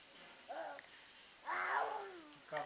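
A small child imitates a cat with soft vocal meows, one short and one longer drawn-out call, then the start of another, at close range in a quiet room.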